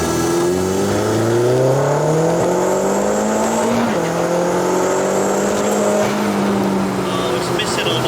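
A tuned VW Polo 1.8T 20v turbo misfiring on all cylinders accelerates at full throttle, engine pitch climbing steadily through a gear change mid-run, loud and close, with people talking over it.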